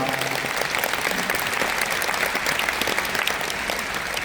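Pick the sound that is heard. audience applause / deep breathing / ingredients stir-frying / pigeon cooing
audience applause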